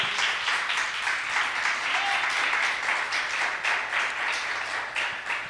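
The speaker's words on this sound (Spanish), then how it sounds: "Denle una ofrenda de aplausos a Él" A church congregation applauds steadily as an offering of praise, a dense, even wash of many hands clapping that holds at a constant level for several seconds with no voices standing out.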